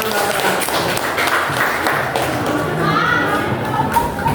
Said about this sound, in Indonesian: Oke, tepuk tangan buat Rahman.